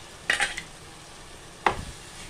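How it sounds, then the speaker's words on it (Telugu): A spoon scraping through fried masala paste of onion and coconut for fish curry in a pan, making two short, close scraping clatters about a second apart over a low background hiss. "ఒక్కసారి మసాలాన్ని ఇట్లా కలిపేసి మంచి వాసన వస్తుందండి"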